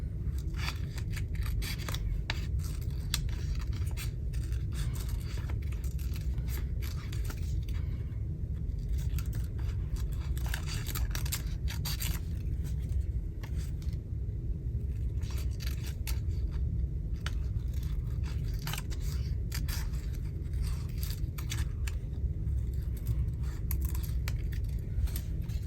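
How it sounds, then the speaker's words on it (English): Small scissors snip repeatedly through paper at close range while a tall document journal is assembled, producing quick, crisp cuts in an irregular rhythm with no talking. "may struggle to cut that out with the big scissors. I've got a little pair here, clever me."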